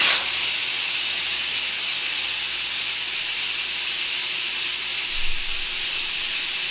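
A pressure cooker on quick release after cooking pho broth, venting steam in a loud, steady, unbroken hiss that fills the whole stretch with no talk.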